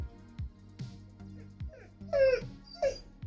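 A puppy whimpers and whines, several thin rising cries and short yips among quieter low sounds, close by and alone without talk.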